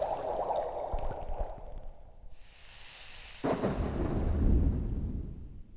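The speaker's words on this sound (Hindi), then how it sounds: "अब तो बादल गरज रहे हैं महाराज" Thunder sound effect in a devotional storm scene: a soft hiss gives way to a deep rolling rumble that swells and lingers to the end.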